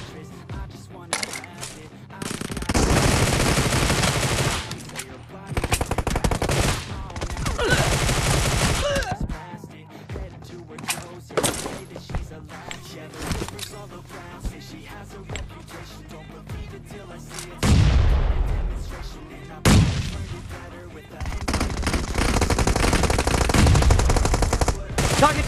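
Gunfire in the video game PUBG, in a team deathmatch: loud bursts of rapid automatic fire come in several long stretches, broken by quieter gaps with single shots and game sounds, with occasional voice callouts.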